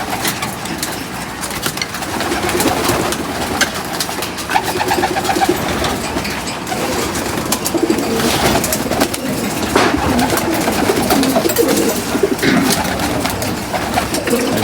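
Pigeons cooing as they eat from a feed tray in a loft, a steady, overlapping chorus of low coos close by, with pecking and scuffling throughout.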